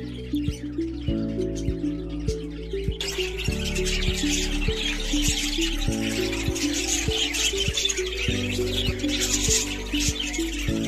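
Pet budgies eating water spinach chirp and tweet continuously in a busy, overlapping chatter that stays close and fairly loud throughout, with no talk.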